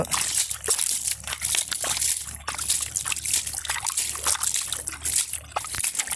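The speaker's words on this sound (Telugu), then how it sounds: "ఇట్లా నీళ్ళు చిమ్ముకుంటూ జాగ్రత్తగా నిదానంగా" River water in the Krishna is splashed and sloshed by hand at close range, with continuous trickling and splattering in irregular bursts and no speech.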